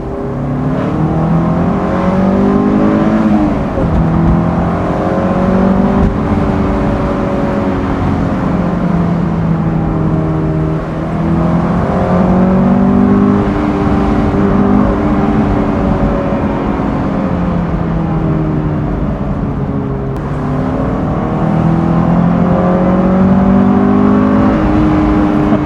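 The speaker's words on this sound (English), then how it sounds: "you can hear it more with the top down, albeit the wind noise" Honda S2000 engine fitted with an aFe Takeda cold air intake, heard from inside with the top down: loud, continuous revving that rises and falls through gears, with wind noise underneath.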